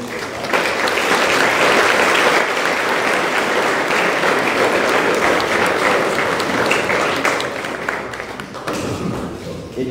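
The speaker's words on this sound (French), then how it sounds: "Je voudrais solliciter une salle d'applaudissement." Sustained, loud audience applause fills a hall after a panel talk at an international economics department event, dense clapping that holds steady and then tapers slightly.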